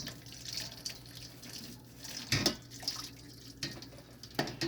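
Whey draining off cheddar curds in a kitchen, a steady trickling and splashing of liquid with a few louder sloshes, close and continuous with no talking.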